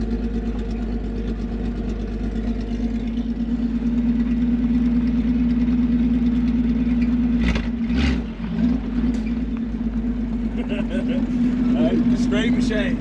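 A Holden HT Ute street machine engine runs steadily with a deep, continuous drone as the vehicle drives in, loud and close, with people talking over it and a brief dip near the middle.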